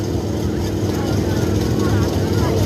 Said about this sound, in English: we've got cars that are idling right here in front of us